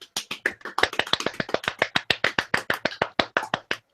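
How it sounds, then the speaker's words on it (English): A round of applause of brisk, evenly spaced claps, about six per second, sharp and close, continuing alone for several seconds with no talk. "Round of applause"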